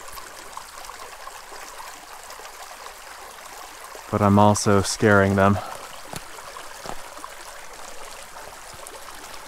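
A steady trickling creek flows quietly throughout, with someone briefly talking over it in the middle.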